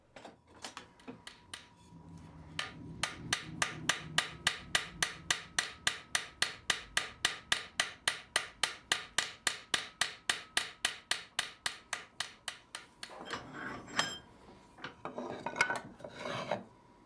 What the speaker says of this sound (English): I use a very light cross peen to create the rivet heads. I use very light hammer blows.